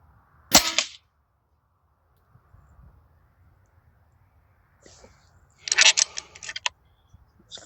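A leaky PCP airgun fires two shots several seconds apart, each a sharp, fairly close crack with a short rattling tail, over a quiet outdoor background.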